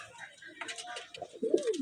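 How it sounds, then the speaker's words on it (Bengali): A pair of Bangladeshi Chila pigeons gives a short, fairly close, throaty coo near the end, after a stretch of faint, soft background rustle. "এটা দেখুন বাংলাদেশি চিলা কবুতর আছে, খুব সুন্দর একটা দুর্দর্শনীয় পেয়ার আছে।"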